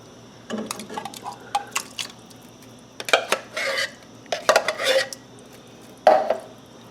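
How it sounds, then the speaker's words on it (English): Canned diced tomatoes from a 15-ounce can tumble into a pot of pasta e fagioli, with clinks of a can and spoon against the metal pot and wet plops spaced across a few seconds, close and moderately loud. "to that I'm going to add diced tomatoes. So this is a 15-ounce can"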